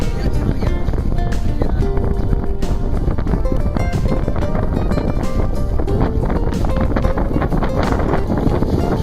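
Strong wind buffets the microphone aboard a sailboat under way on open water, a constant loud rushing roar with gusty bursts that never lets up.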